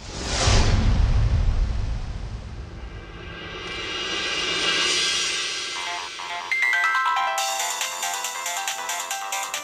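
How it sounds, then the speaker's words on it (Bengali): A mobile phone rings with a bright electronic ringtone that enters after a loud rumbling whoosh, repeating in a steady pattern and growing clear and prominent toward the end. "বিনায়কের ফোন"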